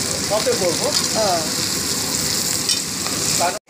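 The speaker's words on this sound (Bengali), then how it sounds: "এই পেঁয়াজ কিউব করা পেঁয়াজগুলো দিয়ে এবার একটুখানি ফ্রাই করতে হবে" Cubed onions frying in a pan for chilli chicken make a continuous close sizzle and crackle. A person talks over the frying, and the sound cuts off abruptly at the end.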